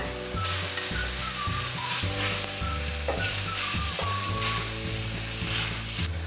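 Glass noodles simmering in a pan with soy sauce, salt and sesame oil over medium-low heat, a continuous close bubbling sizzle with a low steady hum beneath and no voices.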